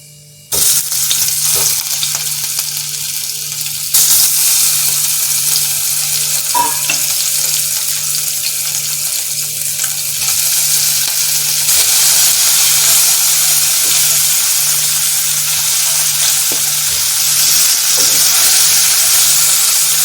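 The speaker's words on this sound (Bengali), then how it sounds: "এভাবে আমি পনিরগুলো ভেজে নেব আস্তে আস্তে।" Flour-dusted paneer pieces frying in hot oil in a kadai make a loud, steady, close sizzle and crackle that starts abruptly and holds for about twenty seconds with no talking.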